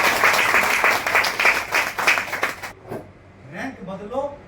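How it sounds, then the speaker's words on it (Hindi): Loud applause from an audience at a network marketing training event, a dense steady clapping for about two and a half seconds that then cuts off, followed by a voice talking. "जोरदार तालियां।"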